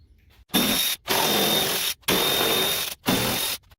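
A ratchet loosens the 10mm bolts on a Dodge Ram 1500 grille, sounding as three or four loud, close bursts of rapid clicking separated by brief pauses.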